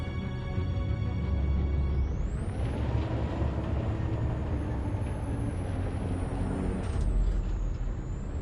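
Truck in a video game: a steady, heavy engine rumble with a hissing air-brake release and rising whine partway through, the sound holding loud and close for the whole stretch with no talk.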